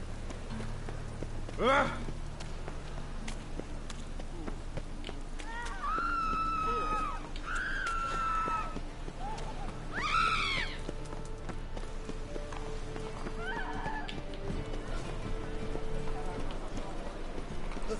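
Hooves of a horse in The Witcher 3: Wild Hunt clop steadily in a fast rhythm beneath game music and a moderate background bed, with a few tonal cues rising over the top.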